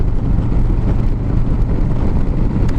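Harley-Davidson Street Glide with a Milwaukee-Eight 107 engine cruising at freeway speed, a steady low engine rumble mixed with buffeting wind noise, recorded from the rider's position with no talk.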